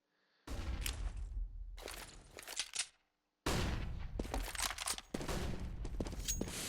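Gunfire in Counter-Strike during a competitive esports match: dense, loud volleys of rapid shots in two long bursts separated by a short silence, with no talk over them.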